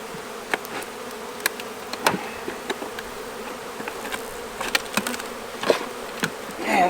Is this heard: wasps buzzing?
yes